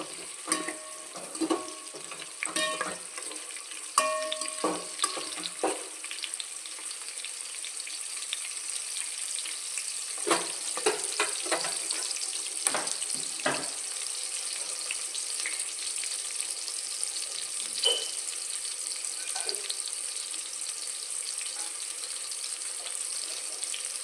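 Steady hissing sizzle of tempering spices frying in hot oil for a soya chunk pulao, with scattered crackles and pops through the first half and no one talking.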